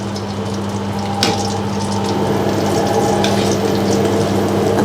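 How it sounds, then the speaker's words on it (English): Ingredients for Thai chilli paste (nam phrik pao) frying in oil, a steady close bubbling sizzle that runs throughout, with a single brief clink or scrape partway through and no talking. "Then we use the oil. This oil, the own one, to fry all the ingredients."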